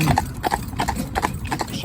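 Hooves of a big grey horse clip-clop in a steady rhythm on a hard surface, close by, with faint voices in the background.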